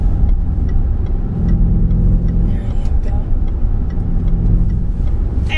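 Range Rover Sport driven on a track, a loud continuous engine rumble with road noise and small rhythmic ticks, heard from inside the heavy SUV, with some voice faintly mixed in.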